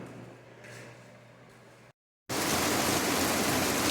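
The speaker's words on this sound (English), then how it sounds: "It's raining pretty hard." Heavy rain pours down steadily outside a garage, a dense close hiss that breaks off briefly into silence and then returns louder and fuller.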